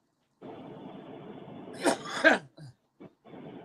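A sudden sharp sneeze-like burst of breath with a second quick explosive follow-up, over a low steady background hum, then brief faint noises.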